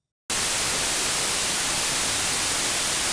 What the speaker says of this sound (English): So it is just white noise.